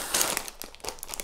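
A plastic bag of Xingbao building bricks from a Blue Brixx Bundeswehr Wiesel 1 kit crinkles and rustles close up in a run of bright, irregular crackles, with no talking.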